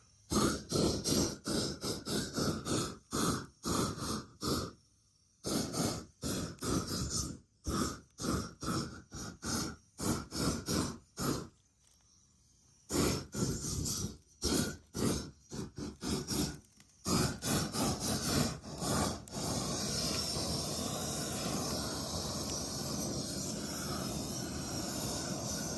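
A Greenwood propane torch with trigger start burning, heard as rapid gusty bursts of rushing noise broken by short gaps, then settling into a steady, loud roar close by.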